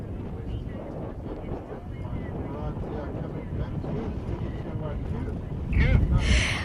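Steady wind buffeting the microphone at a sailing endurance race in breezy Port Elizabeth, a constant roaring rush with a louder gust near the end and a voice faintly underneath.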